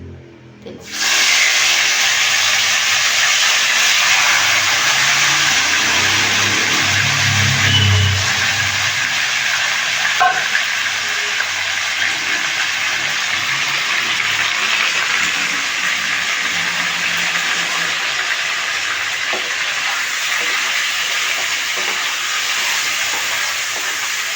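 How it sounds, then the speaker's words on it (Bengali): Chicken marinated in vinegar and turmeric hitting hot oil in a frying pan for green coriander chicken, a loud steady hiss of sizzling that starts abruptly and carries on unbroken, with no talking. "তেল গরম হয়ে গেছে দেখুন এবার চিকেনটা যে ভিনিগার দিয়ে মাখিয়ে রেখেছিলাম হলুদ দিয়ে ওটা দিয়ে দিচ্ছি"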